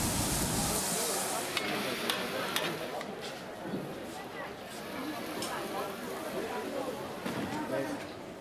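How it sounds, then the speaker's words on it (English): Lamb and beef are stir-fried over scorching fire on an iron platter, giving a close, steady sizzle and hiss with scattered clinks and scrapes, while a voice speaks over it throughout. "The main ingredients are lamb and beef, which are rapidly stir-fried on an iron platter with scorching fire"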